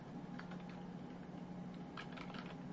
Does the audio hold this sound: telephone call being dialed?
no